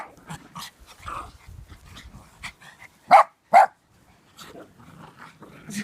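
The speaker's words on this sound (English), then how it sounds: "Oh, you do, Brucey, you just bark." Dogs in and around a house barking, two sharp loud barks in quick succession amid softer yips, rustling and movement noises, with quiet gaps between.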